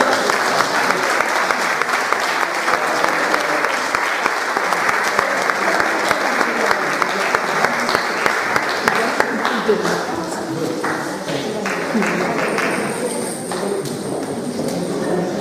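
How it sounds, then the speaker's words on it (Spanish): An audience at a Christmas festival in a community hall in Mesoiro, A Coruña, applauds with a sustained, dense burst of clapping that stays loud and close throughout, thinning slightly toward the end. "Un aplauso para ella."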